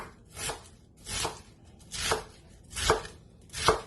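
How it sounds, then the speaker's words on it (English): A knife chops cabbage into cubes on a cutting board, five distinct close thuds at an even, unhurried rhythm, with quiet gaps between strokes. "just chopping the cabbage"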